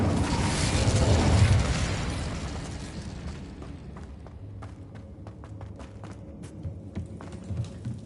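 An Incendio fire spell cast in Hogwarts Legacy, a loud whooshing burst of flame that fades into lighter clicks and game effects.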